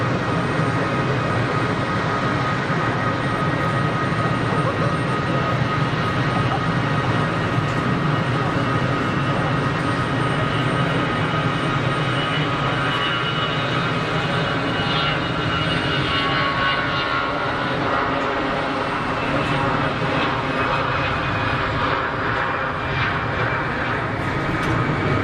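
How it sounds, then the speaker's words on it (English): An easyJet airliner rolls for takeoff at Geneva Airport, its jet engines giving a loud, steady, broad roar that holds throughout at close range. "Got an easyJet on the roll."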